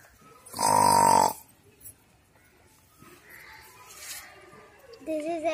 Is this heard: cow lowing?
yes